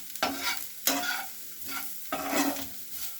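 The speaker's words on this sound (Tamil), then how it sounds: "இந்த ஆனியன் மசாலாலாம் ஃப்ரை ஆகிட்டுருக்கு" Onion masala with garam masala frying in a pan, with a few distinct stirring strokes about once a second over a soft continuous sizzle, close up and without speech.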